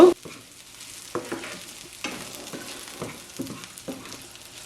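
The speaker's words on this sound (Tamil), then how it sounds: "காஞ்ச மிளகா ஆறு பெரிய செத்தல் மிளகா எடுத்து இப்படி பிச்சு வச்சுருக்கேன் இப்போ இதில் போடுங்க" Dried red chillies, six large ones torn into pieces, frying with onions in a pan, with steady close sizzling and a few sharp stirring scrapes and clatters throughout, no voices.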